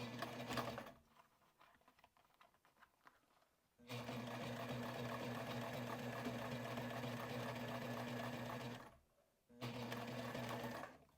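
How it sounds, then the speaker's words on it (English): A sewing machine top stitches a fabric sling in two runs, a fast even whirring patter up close, preceded by brief stitching and quiet handling, with a pause between runs. "now I'm going to sew top stitch on that"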